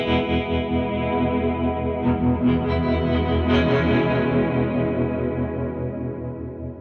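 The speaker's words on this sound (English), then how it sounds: "So it's a really nice classic tremolo sound" An electric guitar plays through a Catalinbread Tremolo8 pedal set to a classic tremolo, a loud sustained chord pulsing in volume and slowly decaying, with a few picked notes added, no talking.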